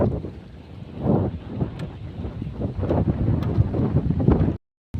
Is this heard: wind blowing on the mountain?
yes